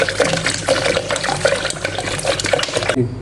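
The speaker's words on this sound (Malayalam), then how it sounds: "അതിനുശേഷം ആവശ്യത്തിന് തണുത്ത വെള്ളം നമ്മൾ ഒഴിച്ചു കൊടുക്കുന്നുണ്ട്" Cold water pours into a blender jar while a mango chilli drink is made, giving a steady, close splashing rush that lasts about three seconds.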